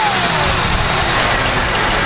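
A Buick LeSabre engine with a lifter tick runs loud and close, a constant dense idle drone with no pauses and no voices.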